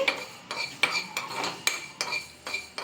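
A metal spoon scrapes and taps a pan as fenugreek seeds dry-roast without oil, about eight evenly spaced clinks in a steady stirring rhythm, close and clear.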